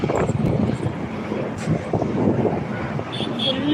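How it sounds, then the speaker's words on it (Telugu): Strong wind gusting across an outdoor spot in Jaipur, Rajasthan, on a hot, dusty day, a continuous loud rushing roar buffeting the microphone throughout. "జైపూర్ అంతా గాలి గాలి."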